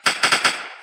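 Gunfire in a dinosaur hunting video game: four quick shots in rapid succession within under a second, loud and close, with a short decaying tail.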